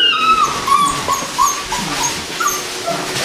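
Young puppies of a litter whimper and yip close by in a run of thin, high, wavering whines that rise and fall in short overlapping bursts.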